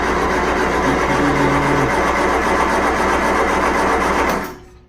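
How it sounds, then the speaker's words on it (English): A 1975 MG Midget engine cranking without catching, a steady rapid whirring churn for over four seconds, close and loud, then cutting off abruptly. "Let's try to fire it up."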